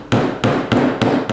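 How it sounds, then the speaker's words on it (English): Four evenly spaced sharp staple shots tack screen onto a wooden bat house panel, each a crisp close snap with a short ring, loud and alone. "I'm just tacking it down with some staples."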